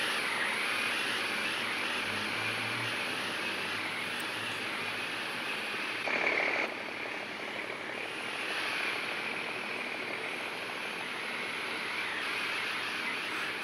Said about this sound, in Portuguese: Avião, olha lá o avião.